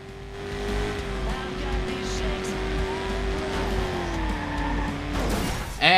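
Car engine drone in the Watch Dogs online game as the vehicle skids out of control, a steady loud motor tone that sags in pitch before a sharp burst of tire noise at the end, with someone talking over it.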